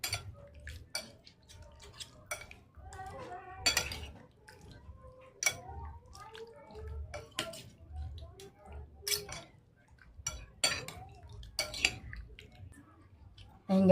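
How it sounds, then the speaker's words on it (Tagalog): Fish kinilaw being stirred right after pure coconut milk goes in, with soft clinks and scrapes of a utensil against a bowl and wet squishing sounds, recurring irregularly and close up, with no talking. "dito na natin ilalagay yung ating purong gata. Tapos ay haluin ulit."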